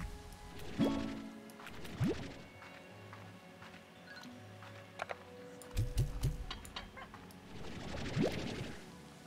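A stony hen in the video game Slime Rancher 2 gives honking, clucking calls in bursts separated by pauses, near and moderately loud, with faint clicks in between.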